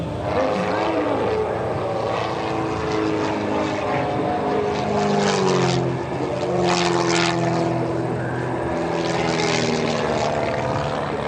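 Propeller airplane engine inside the cockpit of the Blue Demon in flight: a loud, continuous droning roar with a slight pulsing, unbroken throughout.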